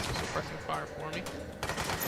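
Gunfire in the action video game Control crackles as a dense, continuous stream of sharp shots, with a heavier burst near the end, all mixed under a player's talk.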